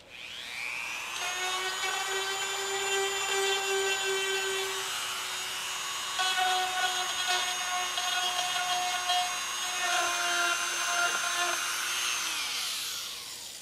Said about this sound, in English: I use a little Dremel on that one.